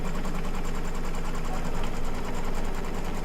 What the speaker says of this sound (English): And stitch it down twice.